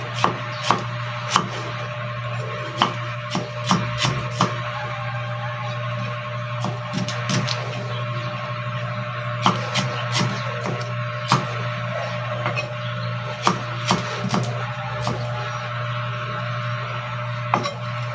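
Ginger being chopped on a cutting board with a knife, a steady series of sharp, close taps at an uneven pace over a constant low hum.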